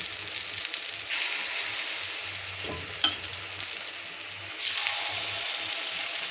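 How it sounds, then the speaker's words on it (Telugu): Small gunta ponganalu batter balls frying in the cups of a paniyaram pan: a close, continuous sizzle that swells louder in bursts, with a single metallic clink partway through. No voices. "ఇప్పుడు నేను గుంట పొంగనాలు ఎలా వేయాలో చూపెడతాను చూడండి. చిన్న చిన్నవి వేసుకోండి."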